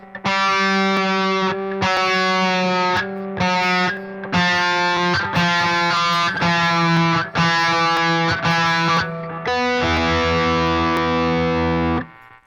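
A distorted electric guitar is tuned with a digital tuner: one low string is struck repeatedly in sustained bursts of several seconds each, with a slight pitch shift near the end, played alone with no talking.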